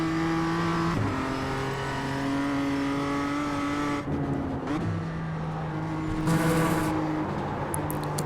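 A race car in a racing video game driving through a corner, its engine droning steadily with pitch dips and climbs as it brakes, shifts and accelerates, loud and close with a brief tire squeal and no talk.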